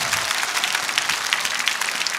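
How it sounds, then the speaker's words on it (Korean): A church audience gives a pastor loud, sustained applause, thick continuous clapping from a crowd at close range that holds steady without pause. "뜨거운 박수를 보내주시면 고맙겠습니다."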